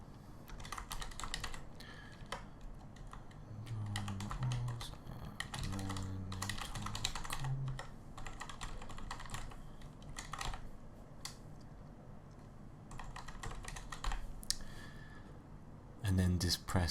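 Typing on a computer keyboard while entering sign-up details, with dense runs of clicking keystrokes in bursts and short pauses, close but quiet against a low background hum, with no speech.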